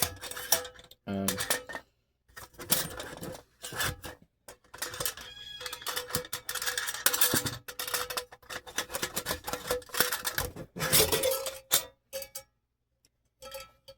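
Pathfinder PFM40 metal mess kit being handled, its pan doubling as a lid, giving scattered clinks, taps and scrapes of metal pieces close by, with short pauses between bursts of handling.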